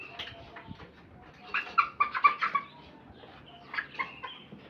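Broiler chickens of the Cup 500 breed cluck and squawk in short bursts as one is picked up for weighing on a farm, with several louder calls in the middle and a later flurry over a noisy pen background.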